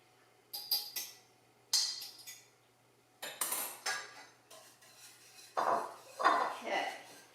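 Two beaten eggs are mixed into cooled dough in a bowl for homemade rolls. Irregular bursts of a utensil clinking and scraping against the bowl come close and fairly loud, with quiet pauses between.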